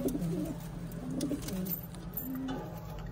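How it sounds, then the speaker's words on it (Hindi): Pigeons offered for sale coo softly in low repeated phrases, close by and fairly quiet, with no talking. "ये देखो भाई कबूतर भी अच्छा"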